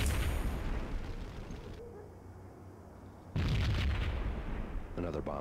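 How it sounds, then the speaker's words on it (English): Bomb blast in a slum building in the Max Payne video game, two heavy booms with a rumbling tail between them, loud and close, with some talk mixed in. "Another bomb exploded inside the closest slum building."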